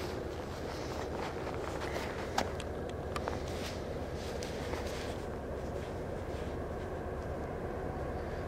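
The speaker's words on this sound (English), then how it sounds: "you can hear the other train in the background." A passing CN freight train rumbles steadily in the distance at Wabamun curve, a low continuous roar with a few faint clanks and creaks over it.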